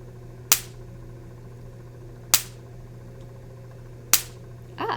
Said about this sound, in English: the grounding sphere discharges the main sphere of the Van de Graaff generator with a pretty consistent frequency